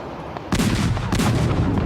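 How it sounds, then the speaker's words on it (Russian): An artillery battery fires during the battle for Berlin, with two loud, close blasts about half a second apart, each followed by a rumbling roll. "Над командным пунктом с ревом паровоза пролетел снаряд и глухо ухнул вдалеке."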